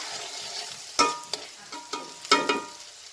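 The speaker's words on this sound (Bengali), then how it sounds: "পেঁয়াজটা ভালো করে মিশিয়ে নিতে হবে, বাদামি কালার হওয়া পর্যন্ত অপেক্ষা করতে হবে।" Onions frying in hot oil for a chicken and potato curry, a soft steady sizzle broken by several sharp spatula scrapes and clinks against the pan as they are stirred.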